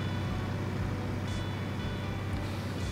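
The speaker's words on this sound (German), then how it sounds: "So, das ist ein Viehtransporter." A livestock transporter truck in Farming Simulator 19 drives along with a steady, low engine drone and rumble. The sound stays even and moderately quiet throughout, with no talk.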